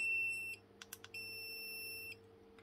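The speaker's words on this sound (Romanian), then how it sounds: "și bineînțeles că are și buzzer, spre deosebire de modelul vechi care n-avea" Wiha 43797 non-contact voltage tester sounding its buzzer: a loud, steady high electronic beep holding for about half a second, a few short clicks, then a second sustained beep lasting roughly a second, over a low background hum.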